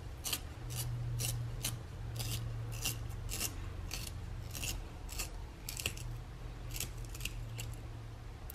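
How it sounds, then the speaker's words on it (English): A Daiso art pencil is sharpened at a desk: a quiet run of about fifteen quick, scratchy shaving strokes in a steady rhythm over a low background hum. "I'm gonna attempt to sharpen this pencil"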